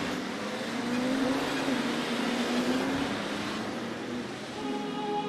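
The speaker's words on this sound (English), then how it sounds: "Outside the garden walls, the streets are filled with the flow of traffic." Steady street traffic streams past outside the walls of a Suzhou garden, a dense continuous roar of passing vehicles with a faint engine drone, fairly close and constant throughout with no voices.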